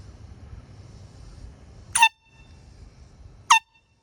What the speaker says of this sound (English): And this is the Horn 70 horn.